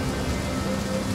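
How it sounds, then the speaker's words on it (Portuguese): Rain in Total War: Pharaoh, a steady dense hiss of falling rain with a low rumbling undertone, continuous and fairly loud with no voices. "Ainda bem que tá chovendo, cara."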